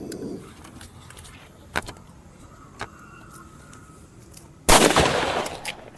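Diwali bullet firecrackers set off outdoors: a few sharp isolated cracks, then a loud burst of rapid crackling and fizzing that continues densely for over a second, close by.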